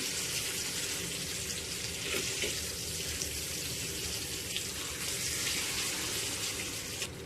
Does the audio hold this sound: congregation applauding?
no